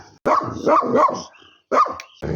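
A friendly dog at a guesthouse in Zakarpattia at five in the morning barks in three or four loud, close bursts with short pauses between them.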